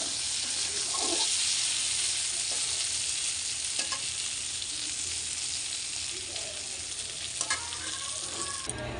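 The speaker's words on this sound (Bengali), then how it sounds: "এই যে আলু বেগুনটা আমার প্রায় ভাজা ভাজা হয়ে গেছে" Potato and eggplant fry in a pan with a continuous, moderate sizzle, broken by a few clicks and scrapes of stirring.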